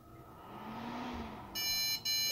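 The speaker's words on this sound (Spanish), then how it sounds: "Está dando el mismo pitido." A steady electronic motherboard error beep sounds twice, a short gap between, over low background hum and clatter.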